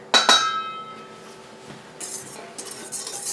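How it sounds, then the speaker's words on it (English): Whisk clinking against a bowl while blending flours for gluten-free, yeast-free, egg-free multi-grain bread: a couple of sharp metallic clinks at first, then softer scraping and light rattling strokes, close and moderately quiet. "we're just going to give that a quick whisk"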